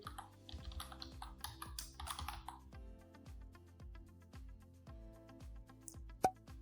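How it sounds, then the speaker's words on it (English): Light computer keyboard typing enters a plugin search in WordPress, scattered soft clicks over background music with a low repeating beat. "In the search bar, type for Elements Kit."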